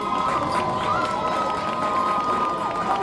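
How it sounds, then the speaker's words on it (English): A large crowd at an athletics meet cheers and claps for a presentation, a dense, constant roar of voices and applause with a faint tonal whine running through it. "Let's give a big round of applause for Dave Anderson."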